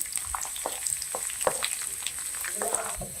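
Ghee sizzling and frying in a pan while cooking shahi mung dal, with a steady crackle and scattered sharp pops and stirring clinks throughout, close and moderately loud, no talking.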